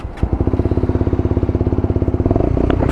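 A 2021 Lexmoto motorcycle engine cranks and catches, settling into a loud, fast, steady chugging idle close by.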